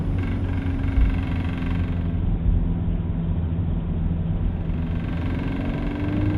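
A brand new car runs with a steady, loud engine drone and a persistent vibration hum at a constant rev, heard close from inside the car with no talking.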